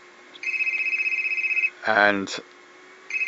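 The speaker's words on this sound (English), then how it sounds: "it sounds like my phone going off here" Mobile phone ringing nearby with a rapid pulsing electronic trill that repeats, then breaks off while someone speaks briefly over it, and starts trilling again at the end.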